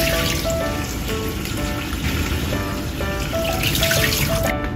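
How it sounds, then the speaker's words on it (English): Shredded squid is rinsed under a running kitchen tap, a steady loud stream of water splashing into a sink throughout. "Shredded squid, wash and set aside."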